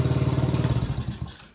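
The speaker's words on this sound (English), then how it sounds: "as you can tell, it's idling" A Chinese four-wheeler ATV engine idles close by with a steady, rhythmic chugging, then fades and sputters away toward the end of the short stretch.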